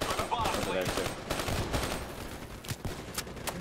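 Rapid bursts of gunfire in the Black Ops 3 campaign, dense and loud, with repeated volleys and sharp shots continuing through the whole stretch amid battle noise.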